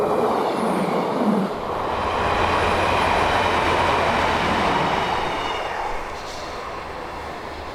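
Northbound train passing close by on a sunny day in Braunton, a loud sustained roar of wheels and carriages that eases into a quieter steady rumble toward the end.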